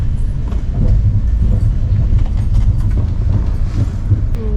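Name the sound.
Tejas Express train arriving at Ratnagiri station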